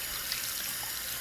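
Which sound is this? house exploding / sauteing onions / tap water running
tap water running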